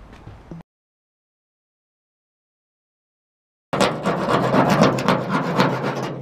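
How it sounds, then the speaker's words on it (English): A hand scraper rasps hard, deep rust off the roof of a 1957 NSU Prinz: a short scrape, a long silent gap, then a fast run of close, gritty strokes. "You were too busy scraping, making a lot of noise."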